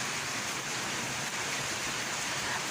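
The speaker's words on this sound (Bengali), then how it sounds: "এই বৃষ্টির পানি আমার হাতের উপরে পড়ছে" Steady rain falls onto a balcony during a storm, a dense, even hiss with no pauses and no voices.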